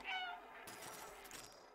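Short cat meow from the video game Stray, a single rising then falling mewing call, soft and close, followed by a faint game ambience.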